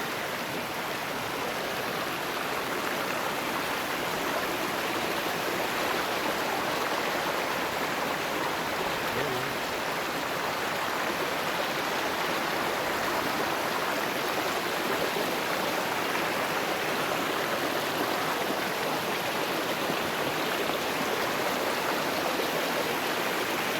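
Steady broadband rush of a flowing stream, continuous and fairly loud throughout with no breaks, like water tumbling over rocks close by.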